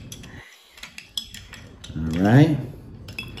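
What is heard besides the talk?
stirring an Old Fashioned rum cocktail with a bar tool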